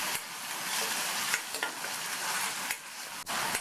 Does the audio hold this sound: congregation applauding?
no